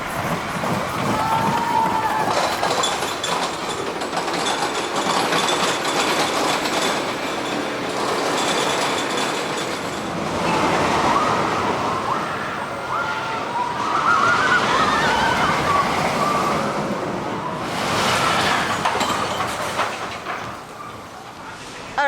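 The Tennessee Tornado roller coaster at Dollywood roars and rattles along its track in a loud, continuous rush of wind and wheel noise, with faint screams rising at moments.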